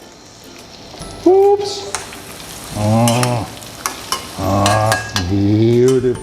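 A Thai omelet sizzles and crackles in a hot pan as it is flipped, with clinks of a utensil against the pan and a voice briefly exclaiming over the frying.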